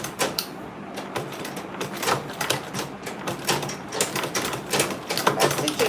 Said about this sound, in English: Okay, I'll sew again. I'll back stitch first.